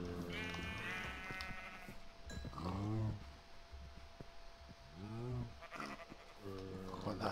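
Blocky game sheep in Minecraft (FTB Infinity Evolved) bleat in a few wavering calls, fairly close and loud, with other animal and game sounds between them.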